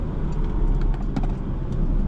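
A 2024 Porsche Macan accelerates in first gear, heard from inside the cabin as a steady, deep engine and road rumble with a few faint clicks over about two seconds.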